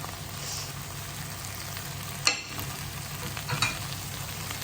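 Quiet stirring of an ivy gourd stir fry with grated coconut in a pan, a soft steady sizzle with a couple of sharp scraping clicks of the spoon against the pan.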